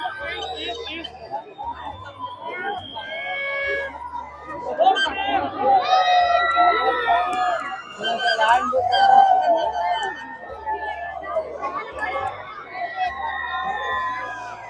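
Crowd chatter at the Erangal Fest at St. Bonaventure Church in Malad, held by the beach: dense overlapping voices with a steady low thumping beat underneath and nearby talk on top.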